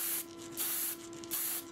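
Aerosol can spraying sealant from about a foot away in even passes, three short hissing bursts in close succession, near and fairly quiet, with no talk.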